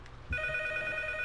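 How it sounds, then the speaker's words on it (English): Telephone in the P.T. video game starts ringing partway through, a sharp electronic bell tone held steadily and fairly loud after a brief low thump, with no voices. "The phone! Go to the phone! It's ringing!"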